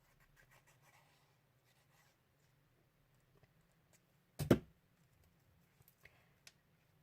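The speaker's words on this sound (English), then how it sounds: "I'm just going to trim the edge off this one" A short, sharp cut as a trimmer slices the edge off a paper watercolour card, a single brief burst standing out against near silence with faint handling clicks around it.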